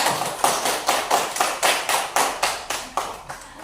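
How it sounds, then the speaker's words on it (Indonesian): Schoolchildren in a classroom clap in unison for a discussion group, about a dozen sharp, evenly spaced claps in a steady rhythm, close and fairly loud. "Sekarang beri tepuk tangan kelompok 2-nya."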